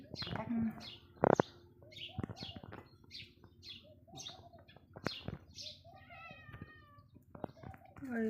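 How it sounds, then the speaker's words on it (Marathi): A cat meows repeatedly in short, rising cries, close by, while birds chirp in the background and a few sharp knocks sound. "मांजर आली"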